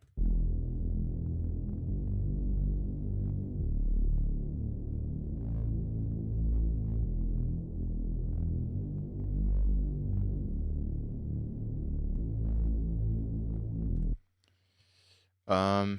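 A deep, steady bass tone drones continuously with a slight pulsing throb, then cuts off near the end as a brief faint sound follows.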